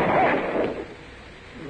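A single sharp gunshot effect in a Sherlock Holmes radio drama, a loud burst at the start that decays into a rumbling tail and fades to quiet room tone.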